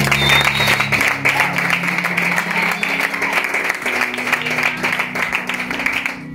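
A church congregation applauds together, a dense and steady wash of clapping that lasts throughout, with music playing underneath.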